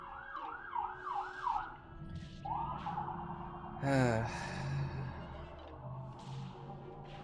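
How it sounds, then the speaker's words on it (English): Emergency vehicle sirens pass by outside, with a few quick rising-and-falling wails early on followed by a longer sweeping siren. The sound is fairly faint and distant beneath background noise. "Where I live, you just hear sirens constantly going by."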